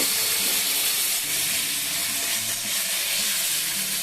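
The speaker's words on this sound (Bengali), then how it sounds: "ক্যাপসিকাম দিয়ে আমি এটাকে একটুখানি ভেজে নেব মশলার সাথে" Capsicum fries with spices in a pan for a vegetarian paneer dish, giving a steady, close, dense sizzle that holds without a break.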